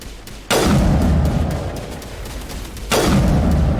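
Heavy game gunfire from Mass Effect, with two sudden loud blasts opening into sustained rumbling fire and explosions that fill the whole stretch, loud and close with no talk.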